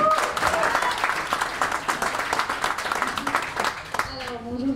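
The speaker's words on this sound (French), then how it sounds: "Un peu d'applaudissements. Bravo." A conference audience claps in sustained, fairly loud applause that tapers off near the end as a voice begins to speak.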